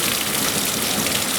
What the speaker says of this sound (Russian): Сильный ливень, с ветром, гроза.